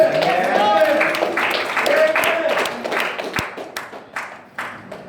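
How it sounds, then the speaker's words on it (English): A church congregation claps in praise over loud preaching or singing voices, with scattered claps spread through the moment. "Clap your hands, give God praise"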